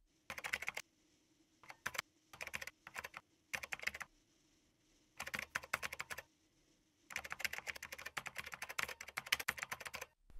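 Bursts of keystrokes clatter on a computer keyboard while a chmod command is entered in a Linux terminal, with several quick typing runs separated by short pauses and a long steady run at the end, close and clear with no voices.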